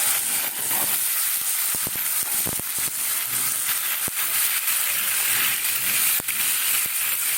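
Fish frying in hot oil, a steady loud sizzling hiss with scattered pops and crackles throughout, close and continuous with no talking.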